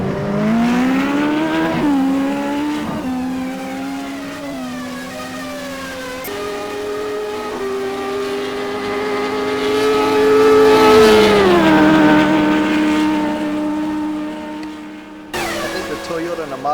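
Toyota and Mazda race cars roar around a track, engines holding loud, steady high revs that shift pitch through gear changes, with a commentator talking over them.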